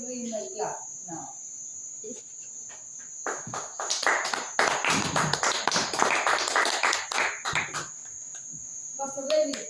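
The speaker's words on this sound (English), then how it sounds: "So give me my clap now." A church congregation claps in a dense burst that swells for several seconds and then fades, with a constant high insect-like tone above and brief talk at the start and end.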